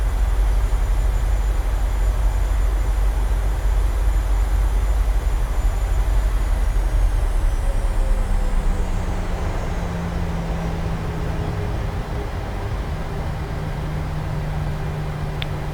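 Boeing 737 takeoff roll on a downward slope at Leh in Microsoft Flight Simulator: a loud, steady jet engine roar with rumbling runway noise, holding strong throughout while a tone slowly shifts as the aircraft gathers speed.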